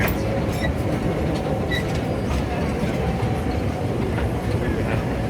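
A Roaring Camp Railroad train rolls down a redwood mountain grade near Santa Cruz, California, giving a steady, loud rumble of wheels and cars with faint clicking and occasional squeal, continuous throughout.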